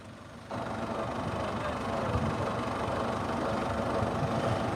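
A tractor's diesel engine idles close by, a steady low chugging rumble that grows slightly louder after a moment.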